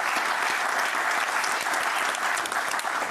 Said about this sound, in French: je voudrais vraiment qu'on applaudisse très fort Christophe avec nous.